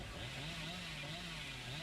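Billy's chainsaw revs in Dead by Daylight, a sustained buzzing whine with a wavering engine pitch that runs steadily throughout, moderately loud with no voices over it.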